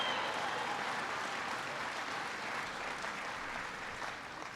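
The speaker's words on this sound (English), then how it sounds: "give Todd a big round of applause" An audience at a new auto stamping plant claps for the plant manager, a sustained, fairly distant wash of applause that holds steady and then tapers slightly toward the end, with no talking over it.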